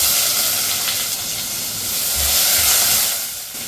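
Onion frying in hot oil with cloves and spices, giving a steady close sizzling hiss that stays loud and unbroken with no voice over it.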